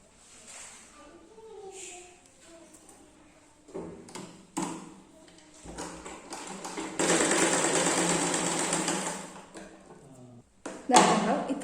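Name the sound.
sewing machine stitching a folded blouse edge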